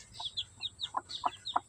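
Bisaya native chickens cluck softly and repeatedly in quick, irregular bursts, with chicks peeping, fairly close and quiet.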